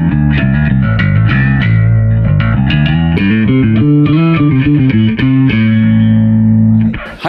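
A bass guitar runs through an Ashdown LoMenzo Hyperdrive overdrive set lightly, playing a busy line of punchy, slightly gritty notes with bright attack before ending on a sustained note that cuts off.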